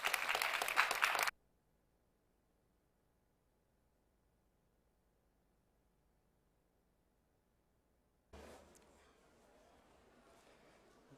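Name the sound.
audience applause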